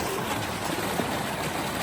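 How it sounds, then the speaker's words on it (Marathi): A small stream of water flowing under a little bridge outdoors, heard as a steady, fairly close broadband rush and trickle with no talking. "इथे ब्रिज आहे छोटासा आणि इकडे पाण्याची स्ट्रीम आहे"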